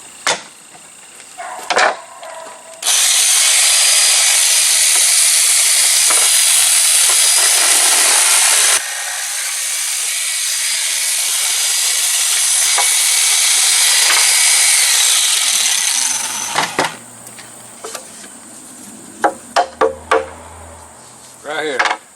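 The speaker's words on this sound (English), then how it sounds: "Now we'll trim them edges down there with a hand grinder." A hand grinder whines loudly and continuously against the edges of a wooden sawhorse for several seconds, easing off once, then giving way to short scrapes and knocks.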